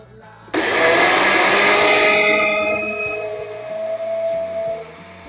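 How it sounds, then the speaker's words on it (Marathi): A mixer grinder grinding soaked rice with a little water, switching on abruptly with a loud, high motor whine that holds steady and then gradually eases as it runs. "आता मी मिक्सरला लावून घेते"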